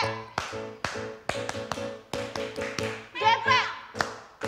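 Rhythmic group clapping in a clap chant at a GPIB Gloria church youth gathering: a patterned series of sharp, close claps with short pauses, ringing over a sustained tonal background.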